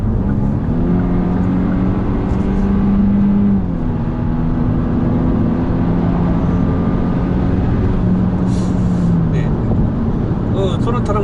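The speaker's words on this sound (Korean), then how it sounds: "여기서 한번 엔진 소음 한번 들어보실까요?" Inside a Kia K5 1.6 turbo on the move, the engine hums steadily with a droning tone that rises and shifts slightly, tire and road noise underneath, while people talk over it.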